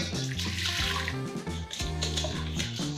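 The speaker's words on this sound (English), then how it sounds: "we're going to dissolve this with 1 cup of very hot water" Very hot water poured into sea salt for homemade bread dough, a steady, continuous splashing pour that runs for the full few seconds without pause.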